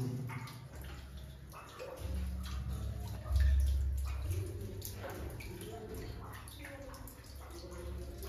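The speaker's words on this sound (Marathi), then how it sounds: "इथं गेल्यावर नुसता पाण्याचा आवाज येतोय." Water flows and drips inside a temple cave around a Shiva lingam, giving a soft, continuous trickle with scattered drips and low rumbling swells, heard under quiet voices.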